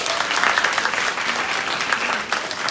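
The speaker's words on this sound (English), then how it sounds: "round of applause for Alexei one more time." An audience at a talk event breaks into a short burst of dense, steady clapping for a speaker, fairly loud and even throughout.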